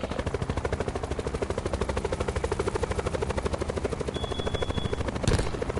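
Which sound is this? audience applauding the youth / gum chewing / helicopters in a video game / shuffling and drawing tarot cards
helicopters in a video game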